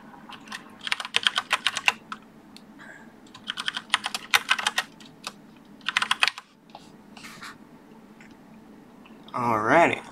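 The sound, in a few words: typing on a computer keyboard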